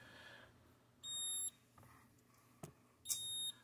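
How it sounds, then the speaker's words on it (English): A Terra Kaffe TK-01 espresso machine sounds a warning because its brewer unit is missing: two short, bright electronic beeps a couple of seconds apart over a quiet room hum, with a soft click between them. "it even knows that the brewer is missing, so it's giving us an alert."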